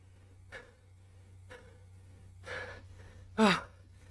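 A cyclist gasps for air after a hard Zwift race, with a few sharp, quiet breaths spaced about a second apart and one louder gasp near the end.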